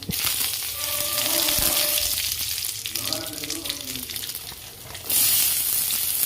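Mustard seeds, black gram and chana dal, curry leaves and dried red chillies sizzle and crackle in hot oil for a cabbage poriyal, a steady loud frying hiss with a burst of spitting near the end and faint talk beneath.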